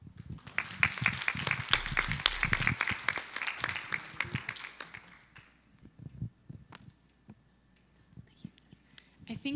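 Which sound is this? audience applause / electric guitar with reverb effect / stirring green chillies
audience applause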